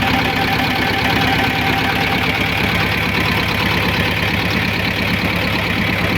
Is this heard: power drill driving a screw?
no